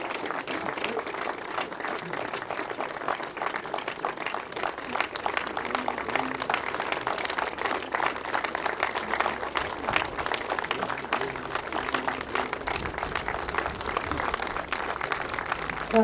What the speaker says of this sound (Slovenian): jih iz prizorišča pospremimo z enim velikim aplavzom